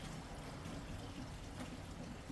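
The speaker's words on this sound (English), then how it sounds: "you can hear the water running down" Water runs steadily down a hopper on a commercial building under demolition, a faint, continuous trickling wash with no breaks and no voices.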